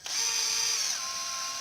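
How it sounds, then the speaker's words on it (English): A power drill bores into the center of a broken bolt, giving one continuous high, whining grind that starts abruptly and holds steady and close, with no talking. "you'll just drill out the center of the hub, not the hub, the bolt"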